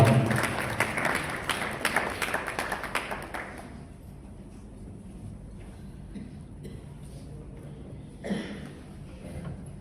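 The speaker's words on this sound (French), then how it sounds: "nous accueillons l'homme de Dieu sous vos applaudissements" A funeral congregation claps to welcome the preacher, dense rapid applause for a few seconds that thins out and fades into a quiet room with a few stray sounds.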